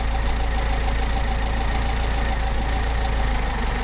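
A Mercedes 190SL engine with a Solex carburetor idles steadily and close by, an even low rumbling pulse with a slight knock, unbroken and without talk.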